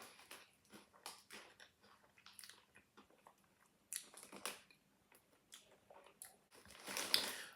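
Cheese-flavoured chips are crunched and chewed close to the microphone, giving quiet, irregular crisp bites and munching for several seconds.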